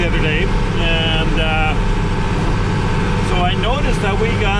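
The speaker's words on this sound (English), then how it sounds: "So we're taking the tractor." A farm tractor's engine runs with a steady, loud, low rumble throughout, close by, while voices talk over the drone.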